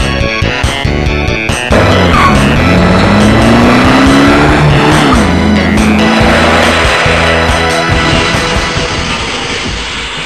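A car in a stop-motion animated film pulls away as its engine revs up in rising, whining sweeps with tire squeal, loud and close, then settles and eases off.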